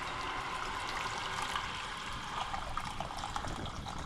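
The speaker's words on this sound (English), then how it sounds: "we're gonna take this hot water and we're gonna pour it in the pot" A steady, soft stream of hot water pours and trickles into a pot, a continuous faint liquid splashing with no talking.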